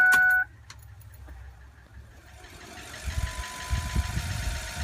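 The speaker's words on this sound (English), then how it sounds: "So the fuel pump is priming up the fuel right now, and we're going to fill up that filter." A fuel pump priming on a 2004 Ford F-550 with the key turned to on, heard as a steady low hum and buzz that builds over the final seconds after an initial chime.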